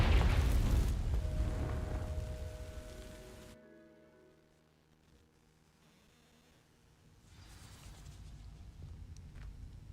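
Confringo blasting spell in Hogwarts Legacy igniting dry vines: a loud, close, roaring burst that rumbles and fades over a few seconds, followed by a quieter, hissing, crackling tail.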